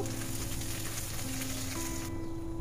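Chopped onions hit hot oil already seasoned with cumin seeds and dried chilli for a gram flour curry, giving a steady, close, continuous sizzle with a faint tonal hum underneath and no talking.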